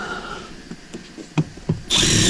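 A power tool drives bolts on a pillar swap bracket fitted to a 1999–2007 truck, giving a few short separate bursts and then a loud sustained whir at the end, heard alone up close.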